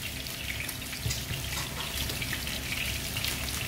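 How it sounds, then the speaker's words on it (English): Onion sautéing in hot oil in a pan, a soft continuous sizzle and crackle at low level with no voices. "And then put the onion. And saute."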